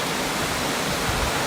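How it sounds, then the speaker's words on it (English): Little Missouri River Falls waterfall heard before dawn on the Eagle Rock Loop, a steady, dense roar of falling water, even and close, with no other sounds. "We've made it to Little Missouri River Falls,"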